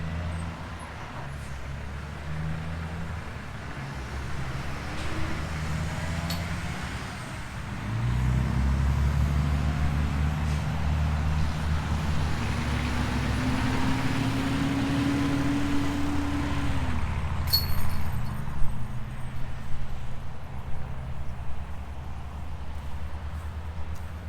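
Road traffic passes beside a golf course, with loud truck engines rumbling and swelling mid-way, one vehicle's tone rising and falling as it goes by, holding a steady low roar throughout.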